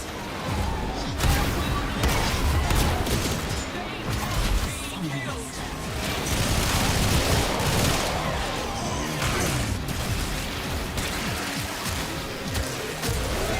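Rapid gunfire from the Warframe video game fills a dense, loud battle mix in the Survival mode during a Live Heartcell farm, with continuous bursts, impacts and game noise overlapping throughout.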